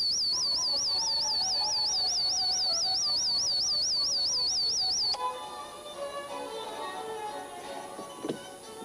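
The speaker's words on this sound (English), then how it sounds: "or a tape deck, which is music and" A tape deck playing music for plants, with high bird sounds behind it. A warbling electronic tone stops abruptly, then softer music takes over with faint high chirps and a brief sharp burst near the end.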